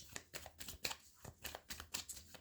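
Tarot cards being handled and shuffled, a quick run of soft papery flicks and slaps, close and fairly quiet, with no talking.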